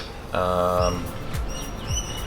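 Bright, high chirps from birds nearby, mixed with a steady harmonic hum and some low background noise.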